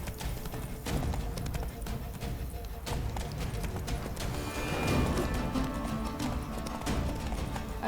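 Roach, a horse in The Witcher 3: Blood and Wine, gallops with steady clip-clop hoofbeats amid a dense, loud game soundscape of music and ambience.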